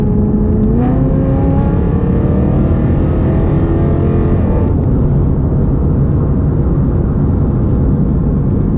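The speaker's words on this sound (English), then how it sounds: "as you can hear, I do like the sound of this car. I have a BMW E92 stock exhaust mod." Loud, close V8 engine and exhaust of a modified 2008 BMW M3 E92 with a naturally aspirated V8 and an aftermarket exhaust, revving up through rising pitch during acceleration before settling into a steady heavy drone.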